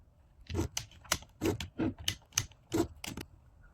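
A quick series of crisp plastic clicks from the selector of a Keelat KCD012 cordless drill, roughly ten in a row at an uneven pace, close by with no voice.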